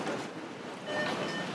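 A Taipei metro train running, a steady low rumble and rolling rail noise heard from inside the car, with a faint high whine in the middle and no talk.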